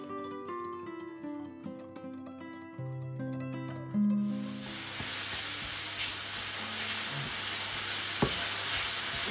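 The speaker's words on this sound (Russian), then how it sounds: "Жарим-парим." Food frying with spices and herbs in a pan, a steady close sizzle that begins abruptly partway through, following a stretch of background music, with occasional clinks.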